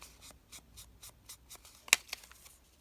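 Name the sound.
inking around edges of paper envelopes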